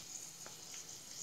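Dried red chilli sizzling in hot oil with tempering seeds in a kadai, a soft, steady crackle with a few faint pops, quiet and close, no voices.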